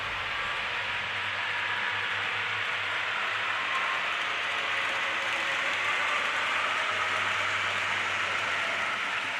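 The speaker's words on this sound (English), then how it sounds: "The train's currently coming through the tunnel that separates our two rooms, heading on down towards Pleasanton." An HO scale model train on a DCC layout runs through a tunnel between two rooms, giving a continuous faint rolling whir with a low motor hum and light rail clatter, steady throughout with no talk.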